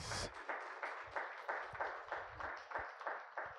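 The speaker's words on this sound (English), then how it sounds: "you all give Mike another round of applause" An audience applauding a speaker at a live event, steady moderate clapping from a crowd that sounds a little distant and faint, with no talk over it.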